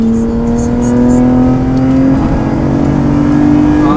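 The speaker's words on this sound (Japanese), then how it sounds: "V6NA の音が。 下はゲロゲロ言うんですけど回せばフォーンってなるんで" A naturally aspirated V6 engine in a Lotus Evora revs steadily high, a strong sustained harmonic whine holding near-constant pitch with a slight rise, continuous and close.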